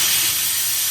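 Compressed air vents in a steady, loud hiss from the line between a compressor and a bottle in a fire department cascade system, continuous throughout with no voices.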